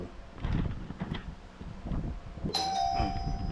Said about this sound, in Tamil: காலிங் பில் அடிக்கும் பாரு